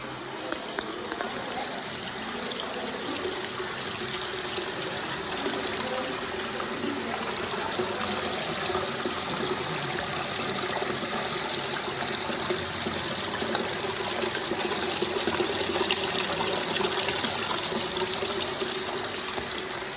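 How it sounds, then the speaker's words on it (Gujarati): Water falls continuously over the Shivling at the Balaram temple near Palanpur, a steady, full splashing and trickling rush that holds at even loudness throughout with no voices. "ચોવીસે કલાક ત્યાં પાણી પડતું જ રહે છે"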